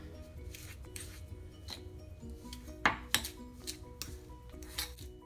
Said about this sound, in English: we'll just simply mix the two by using our fork like this